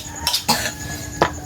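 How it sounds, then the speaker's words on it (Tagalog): A woman coughs three times in quick bursts, fairly close, over a steady background hum with no talk. "May ubo si ate."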